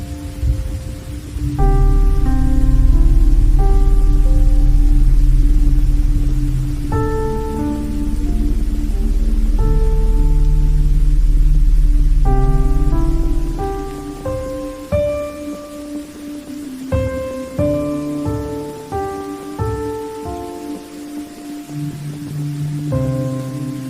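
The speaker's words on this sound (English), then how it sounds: "Rain slashed sideways." Heavy rain slashes sideways in a storm, a dense steady roar that eases in the second half while soft musical notes play over it.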